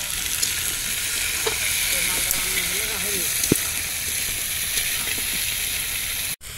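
Chopped onion, ginger and garlic sizzle steadily in hot oil in a pan, a close continuous frying hiss with occasional stirring clicks and a sharp knock near the end.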